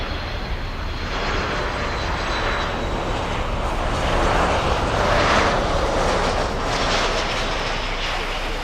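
A Lufthansa Boeing 747 takes off at Miami airport with a broad, roaring engine rush that swells slightly and holds steady at a moderate distance, with no talking over it.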